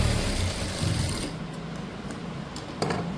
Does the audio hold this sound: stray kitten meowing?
no